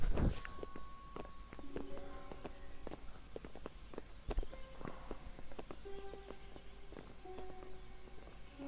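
Rhythmic clip-clop of horse hooves on a hard surface in the video game Kingdom Come: Deliverance, several animals walking at a steady pace, moderately close with faint background ambience.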